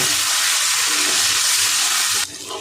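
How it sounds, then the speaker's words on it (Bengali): Grated ginger and chopped chili frying on high flame for chilli soya, giving a steady loud hiss and sizzle with no talk that drops abruptly near the end. "এবার আমি দেব গ্রেট করা আদাটা আর লঙ্কা কুচি দিয়ে একটু ভেজে নেব"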